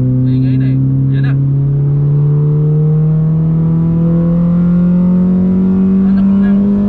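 A Mitsubishi Lancer GSR's MIVEC engine revs, loud and close, as a steady engine drone that climbs slowly and evenly in pitch across the whole stretch.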